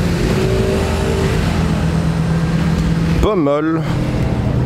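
Sports cars, an MG GT and a Porsche GT3, driving past at the Zoute Grand Prix, with a steady engine drone under background noise and one sharp revving burst, while someone speaks briefly.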